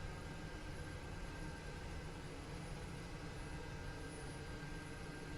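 Twin-turboprop drone of a DHC-6 Twin Otter in MSFS 2024 preparing for a straight-out takeoff, a steady dense engine roar that holds level and unbroken throughout, with no talk.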